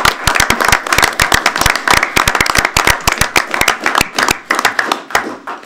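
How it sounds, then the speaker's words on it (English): Loud, dense clapping from a group of people at a council meeting, sharp claps overlapping continuously without pause, close by. "Let's have a nice round of applause"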